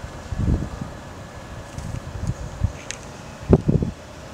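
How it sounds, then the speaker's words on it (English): Outdoor wind gusts buffet the microphone in low, uneven rumbling bursts over a steady background hiss, swelling and fading across the whole stretch. "Oh, here we go, we got some wind."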